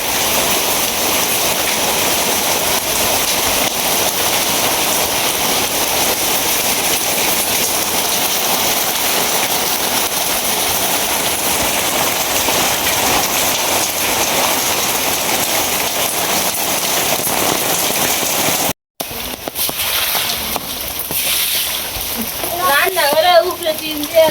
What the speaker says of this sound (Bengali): এটা বৃষ্টি কি এই জুড়ে আইছে?